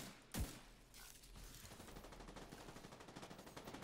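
A sharp, loud gunshot from The Division 2 rings out early, followed by a steady rattling background of game noise without further distinct blasts.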